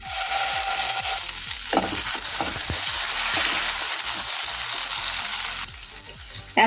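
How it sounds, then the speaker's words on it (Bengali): Green pea paste fries in hot oil in a wok with a continuous hiss, while a utensil scrapes and stirs through it in repeated short strokes, close and moderately loud. "এখন দেবো কড়াইশুঁটির পেস্ট।"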